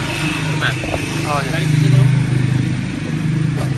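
A motorcycle engine runs nearby at a farm, with a loud, steady rumble that swells briefly in the middle, while people talk over it.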